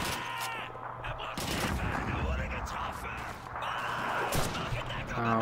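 Rapid gunfire and explosions in the video game Call of Duty 2 play throughout, with bursts of shots and booming impacts, while someone talks over the game sounds.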